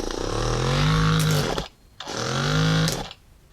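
A Yunmai massage gun running on its high setting gives a close, buzzing motor whine that rises and falls in two pulses, with short quiet gaps between them.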